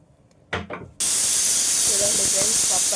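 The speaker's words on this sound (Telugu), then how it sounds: "పప్పు అయితే ఉడుకుతుంది విజిల్ వేస్తుంది" A pressure cooker boiling dal for sambar lets out a sudden, loud, continuous blast of hissing steam that carries on steadily after a short burst of voice.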